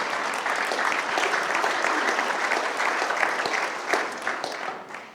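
A crowd applauding steadily at a mayor's State of the City address in Grand Rapids, dense clapping that holds throughout and tapers slightly toward the end.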